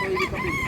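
A stag rooster at a busy livestock market in Danao, Cebu, gives one short close call with clear harmonic tones under market bustle.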